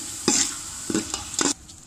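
Whole spices and a medium tomato stir-fry for a traditional D.I. Khan Sobat dish, with a steady sizzling hiss broken by several sharp scraping stir strokes, close and fairly loud, with no talking.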